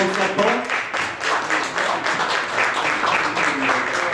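Restaurant guests applaud a welcomed restaurateur at a Brussels dining award event, a dense burst of clapping from a nearby crowd with voices talking over it throughout.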